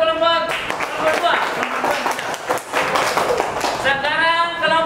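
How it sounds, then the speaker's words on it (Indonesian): A classroom group of students clapping for another group, a burst of rapid scattered claps mixed with chatter and a voice speaking over it. "Kelompok 1 tepuk tangan ke kelompok 2."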